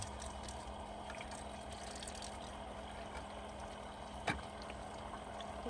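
Water trickling steadily from a rechargeable portable faucet during handwashing, a soft continuous flow with one brief splash near the end and no voices.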